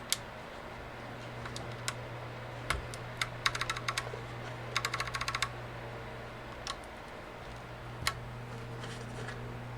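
Keys clack on a custom Austin R4 mechanical keyboard in scattered, faint taps, with a few quick bursts of typing over a low steady hum.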